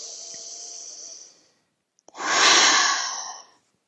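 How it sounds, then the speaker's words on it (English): A deep breath drawn in with a long airy hiss, a short pause with a small click, then a fuller, louder exhale that swells and fades; close and alone. "Take a deep breath."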